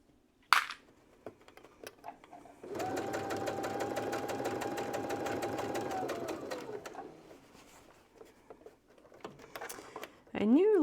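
A sewing machine runs in one sustained burst of rapid, even stitching for about four seconds, close and fairly loud, surrounded by quiet handling clicks and a brief voice near the end.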